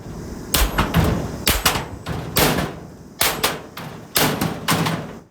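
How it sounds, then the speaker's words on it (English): Heavy metallic sledgehammer and ball-peen hammer blows reshape a metal workbench inside a carport, ringing out in irregular clusters, loud and close, with sharp clanging strikes separated by short pauses. "with a sledgehammer and a ball peen hammer, I was able to get that back into shape"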